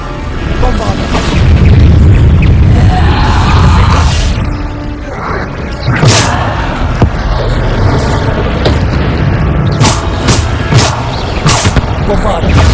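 The Bombarda explosion spell goes off in Hogwarts Legacy as a loud, deep boom that rumbles for several seconds, followed by sharp bangs and clattering impacts.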